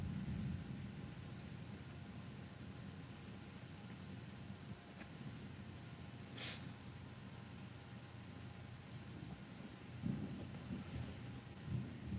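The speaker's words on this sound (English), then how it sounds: "A noise of thunder heard." Thunder sound effect for a stage reading of Shakespeare's The Tempest: a low, steady rumble with one sharp crack midway and crickets chirping faintly throughout.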